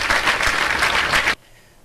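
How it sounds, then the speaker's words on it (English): Applause from a radio show audience, a dense burst of clapping that stops abruptly after about a second and a half, leaving near silence. "we're going to give you a posthumous applause."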